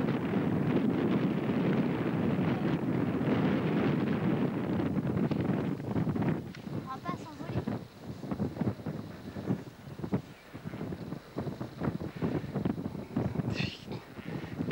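Strong wind buffets the microphone at the Pyla dune, a loud continuous roar for several seconds that then turns gusty and uneven, with flapping sail-like rustles.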